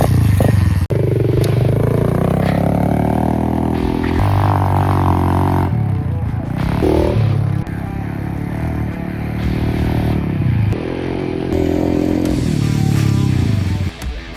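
A homemade wooden dirt bike rides with a continuous motor drone that rises and falls as it revs, broken by abrupt shifts, clatter and scraping bumps, with no talking over it.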